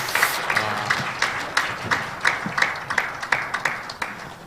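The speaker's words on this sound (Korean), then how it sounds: "다시 한번 들어가는 동안 우리 박수로." Congregation clapping during a Sunday morning service at a Methodist church in Daegu, rhythmic and fairly steady, with claps in a regular beat at moderate distance and no talk over it.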